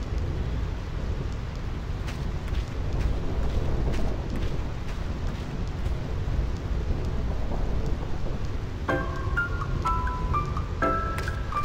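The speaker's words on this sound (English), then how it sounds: "I'm tired of dodging thunderbolts." Continuous low rumbling thunder with rain in the Final Fantasy X HD Remaster thunder plains area, steady and loud throughout, with a few bright chiming game menu tones near the end.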